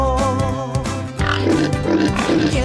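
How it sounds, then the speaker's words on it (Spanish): A pig grunts and oinks in a series of close, loud nasal calls with short gaps between them, heard alone as a farm animal sound example. "Vamos a escuchar cómo hace el cerdo."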